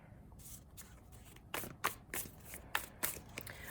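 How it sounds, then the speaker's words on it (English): Tarot cards are shuffled by hand close up, a series of soft riffling bursts and slaps in an irregular rhythm, fairly quiet with no talking. "Sometimes it takes a little more shuffling. Cards have to get wherever they need to go, I guess, to fall out."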